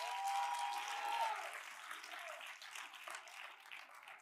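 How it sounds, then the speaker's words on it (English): Applause from a church congregation during a Sunday service, a steady wash of hand clapping that gradually fades, fairly faint and heard from a distance. "Now give God an even bigger hand clap."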